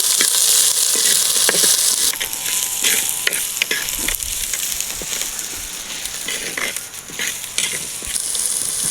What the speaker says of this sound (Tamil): நம்ம பூசணிக்காவுக்கு தேவையான அளவு உப்பு உள்ளே சேர்த்து வெங்காயத்துக்கூடையே வதக்கிக்குவோங்க.